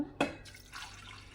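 Water splashes into a pot of small-onion and drumstick sambar with a brief burst, then settles into a soft, steady pour that trickles on for about a second.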